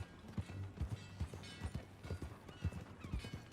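Horse hooves clip-clop at a steady walking rhythm in Red Dead Redemption 2, with several animals close by and a faint whinny over soft background ambience.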